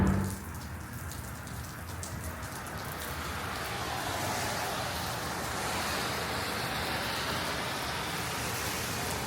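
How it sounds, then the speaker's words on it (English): Steady rain patters continuously on a surface, a dense hiss of drops that stays even throughout. "Yeah, it's raining."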